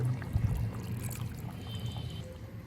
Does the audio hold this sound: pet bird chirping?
no